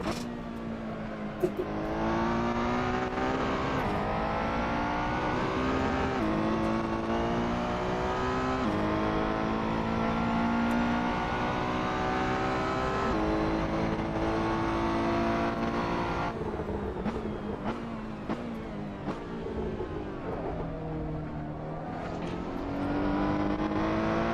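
Ferrari race car engine in an esports racing game at the Nürburgring revs steadily and loudly with shifting pitch, gear changes and bursts of acceleration continuing throughout.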